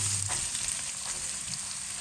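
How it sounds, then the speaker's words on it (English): Onions and carom seeds crackle and sizzle in hot oil in a pan, a steady, fairly quiet frying hiss with small pops throughout and no voices. "Got to let them nicely sizzle up, release the flavor in the oil"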